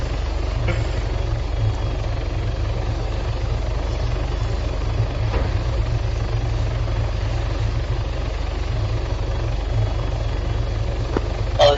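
Helicopter on a runway before takeoff in the military simulation game Arma 3, a loud, constant low rotor and engine drone that holds steady throughout, with faint clicks over it.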